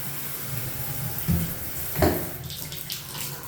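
A house shower runs with a steady spray of water, a broad continuous hiss at moderate level with a couple of brief knocks partway through.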